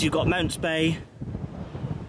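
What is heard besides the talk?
wind on a hilltop viewing platform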